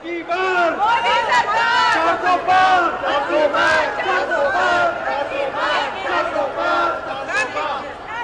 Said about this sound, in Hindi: दुबई में भीड़ से किसने लगवाए मोदी के लिए ऐसे नारे